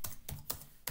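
Quiet computer keyboard typing, four sharp separate key clicks spaced evenly over a second, close and alone.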